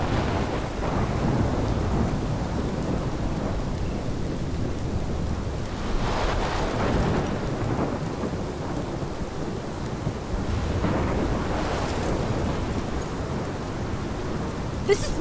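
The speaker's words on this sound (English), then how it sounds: "This is my storm." Steady heavy rain from a thunderstorm in the Life is Strange game, a continuous loud wash with low thunder rumbles swelling near the middle and toward the end, no voices.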